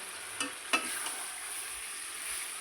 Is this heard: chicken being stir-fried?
yes